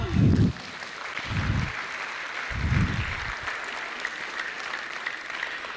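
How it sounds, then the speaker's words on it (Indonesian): A school assembly audience of teachers and students applauds at a motivational talk, a broad steady patter of clapping lasting several seconds, with brief low bumps of a voice or handling noise early on. "Tepuk tangannya dulu dong."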